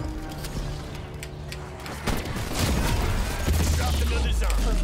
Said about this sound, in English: Is that big fella equipped with an actual cannon?